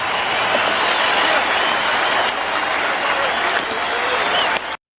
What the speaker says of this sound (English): You could hear the roar of the crowd when the agencies were announced.